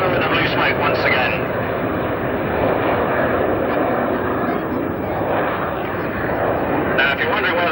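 Display team jets roaring overhead at a 1991 international air display in Leicester, a loud sustained engine rumble throughout the whole stretch, with a commentator talking over it.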